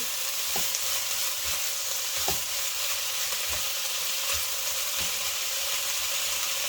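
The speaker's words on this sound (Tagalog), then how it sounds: "Halo-halo. Ito guys, haluin natin." Pancit noodles made with sotanghon fry in a pan under a constant loud sizzle, while a utensil scrapes and stirs in a loose rhythm of soft knocks about once a second.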